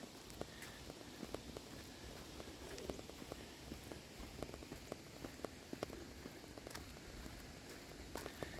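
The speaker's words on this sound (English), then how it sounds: "super enjoying this walking in the rain thing." Light rain patters outdoors around someone walking, with soft footsteps and scattered drops over a faint, steady wash of background noise.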